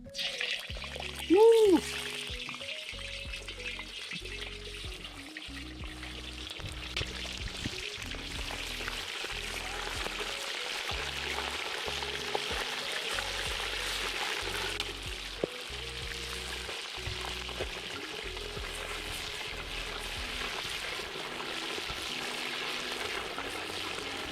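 Meat frying in about 350–400 grams of oil in a kazan for shashlik, a continuous bubbling sizzle running throughout, with a person talking intermittently over it.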